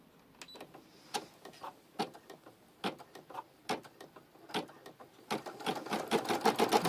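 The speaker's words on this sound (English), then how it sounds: "we're going to stitch step number 2, which is going to be the tack down" A sewing machine stitches a tack-down line on a fabric bear, first in short separate bursts of needle strokes, then in a faster, louder continuous run near the end, close by with no talk.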